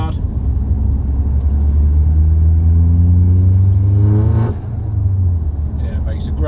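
An Audi TTS engine while driving: a loud, close, steady low drone that rises in pitch as the car accelerates, dips briefly at a gear change, then carries on, with someone talking over it.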